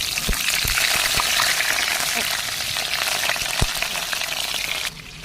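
Milkfish tocino frying on low heat in a pan, a dense, steady crackling sizzle close up with a few light utensil taps, continuous and fairly loud.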